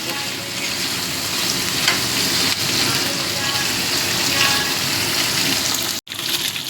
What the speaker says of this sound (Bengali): শুটকিগুলো ভাজা হয়ে গেছে ভালো মতো